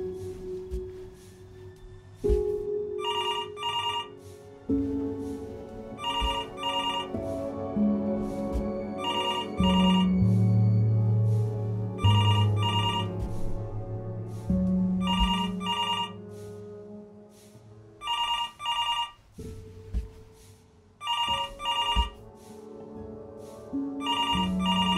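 A telephone in the game Before Your Eyes rings in repeated bursts of a bright trilling bell, loud and close, spaced a few seconds apart over a low sustained musical drone.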